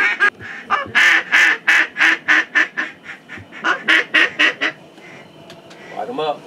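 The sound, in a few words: ducks flying in during duck hunt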